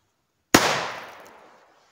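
A single sharp firecracker bang, loud and close, followed by a long fading rumble and crackle as it dies away.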